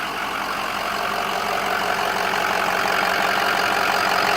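A Ford 6.0 diesel pickup engine idles loudly and close by, with a steady rough clatter and no pauses or speech over it.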